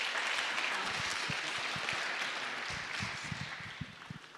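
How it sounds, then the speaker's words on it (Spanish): A church congregation gives strong applause to welcome the pastor at a Sunday service. The loud clapping tapers off into scattered claps and a few low voices. "entonces vamos a invitar al pastor Andrés, así vamos a recibir con un fuerte aplauso."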